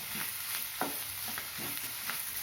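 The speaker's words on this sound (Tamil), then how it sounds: "தக்காளியும் நல்லா வதங்கட்டும்" Finely chopped tomato sautés in a pan for a spicy egg capsicum masala, making a soft, quiet sizzle punctuated by a few light stirring scrapes and taps.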